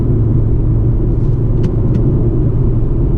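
A BMW X2 sDrive20i climbs a steep mountain road, its engine and road noise a loud, steady, heavy rumble from inside the cabin with no break.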